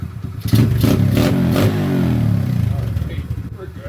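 A small Honda ATC70 ATV engine with a 125 cc engine catches and revs hard for a burnout, a loud rising roar that holds and rumbles steadily close by.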